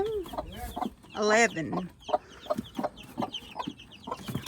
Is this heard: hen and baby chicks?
yes